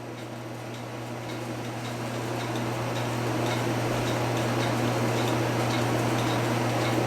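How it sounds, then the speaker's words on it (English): Vintage Centurion steeple 35-day mechanical clock running after being leveled, giving a steady, even tick-tock close by under a constant low hum, with no voices. "Let that run a little bit and then check for the sound of the tick tock, tick tock."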